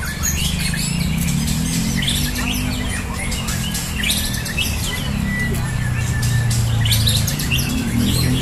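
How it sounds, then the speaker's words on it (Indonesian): A young white-rumped shama chirps and trills repeatedly in bright bursts over a steady, noisy low hum, fairly close and continuous. "cross-check dulu burung murai batu muda"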